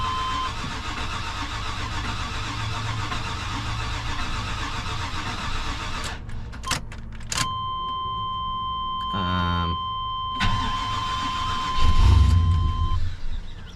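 An LS-swapped OBS truck engine cranks with a whirring starter, then catches and rumbles into a deep idle, revving up near the end; a steady electronic tone runs alongside.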